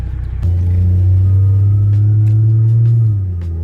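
A Chevrolet Trailblazer's 4.2L engine with a Flowmaster exhaust idles with a deep, steady exhaust rumble close by, holding a low drone before settling slightly quieter at the end.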